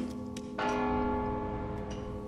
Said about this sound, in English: Sound lines from the bell.